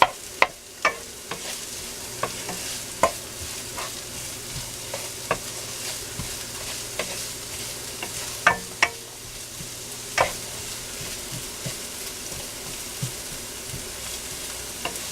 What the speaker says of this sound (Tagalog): Ihalo na natin ang luya.